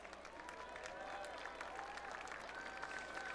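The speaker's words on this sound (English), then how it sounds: "Please give our spirit team seniors one more round of applause." Steady applause from an audience at a high school football game, a dense continuous wash of clapping with crowd murmur, sustained evenly throughout.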